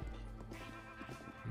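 A horse in the Zelda: Breath of the Wild video game gives a short, fairly faint whinny over a low game soundscape, with no talking.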